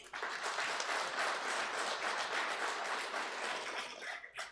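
Audience at an all-India conference applauding, a dense steady wash of many hands clapping that fills the whole stretch at even loudness, with no voices on top.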